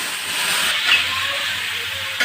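Cumin and spices hit hot oil left from frying fish with bay leaf, giving a steady, close, hissing sizzle throughout with a brief clink near the end and no voices.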